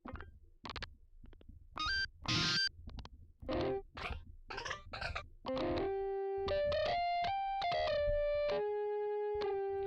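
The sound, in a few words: distortion effect on synthesizer guitar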